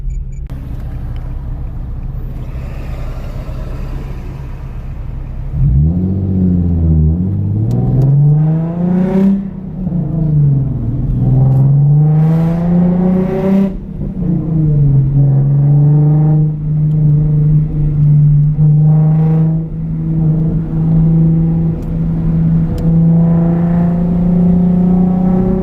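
A car engine idles low, then revs several times with rising and falling pitch before settling into a steady drone while driving in slow holiday traffic, close and loud throughout.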